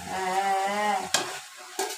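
Bengali vegetable curry (chorchori) frying in a pan: a soft sizzle runs under a tonal scraping as a spoon stirs, then two short sharp scrapes or clanks of the utensil against the pan, close and fairly quiet.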